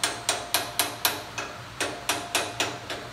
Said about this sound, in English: I'm going to pop it on there and grab a hammer. Anyway, I'm going to tap this down.